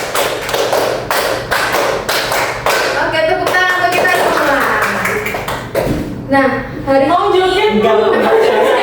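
Rhythmic hand clapping in quick bursts, several claps at a time, in a classroom counting game, mixed with children's voices and some tonal music or chatter.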